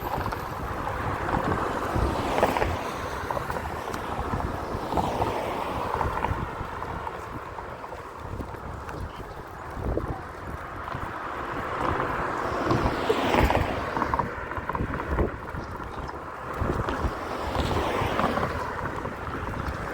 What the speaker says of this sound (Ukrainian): Зважаючи на те, що вже вітер з океану